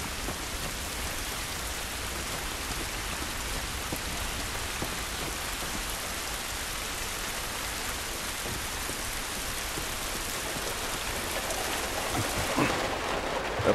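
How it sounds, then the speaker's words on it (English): Steady rain pours down outdoors at the docks in the video game The Last of Us Remastered, a dense, even hiss of falling water that continues unbroken with no talking over it. "This rain ain't gonna do us any good."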